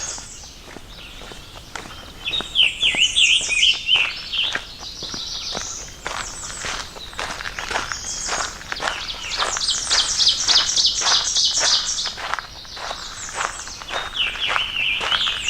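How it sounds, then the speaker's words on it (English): Birds chirp and sing continuously on a morning trail on the Limberlost in Shenandoah National Park, bright overlapping calls layered over steady footsteps crunching along the trail. "man, listen to the birds singing"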